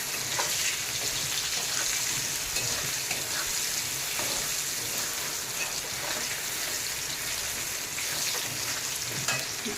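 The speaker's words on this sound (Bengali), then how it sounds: "আলু ভাজতেছি" Potatoes frying in a pan in a home kitchen for a night-time dinner, a steady close crackling sizzle with occasional stirring scrapes, continuous and fairly soft, no talk.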